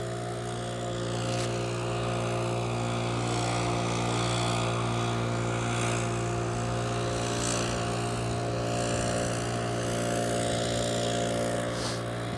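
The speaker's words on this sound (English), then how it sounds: "he's pretty loud with that blower" A groundskeeper's engine-powered blower drones loudly and continuously on a golf course, a steady motor hum close by with no talk.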